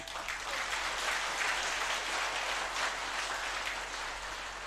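An audience at a religious gathering claps continuously, a dense, even patter of many hands that holds steady throughout at moderate loudness, with no voices rising above it.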